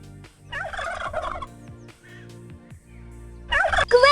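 A turkey gobbles in a farm animals app game, two loud bursts of rapid gobbling near the start and end, with soft game sounds between.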